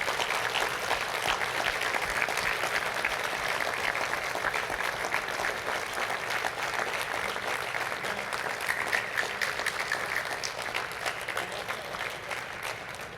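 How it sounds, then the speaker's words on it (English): At a school prize day ceremony, an audience applauds steadily for over ten seconds, a continuous wash of many hands clapping, moderately distant and even in level, with no talking over it. "give your parents and family members and friends and St. Mark's faculty and staff a round of applause of appreciation for everything they have done"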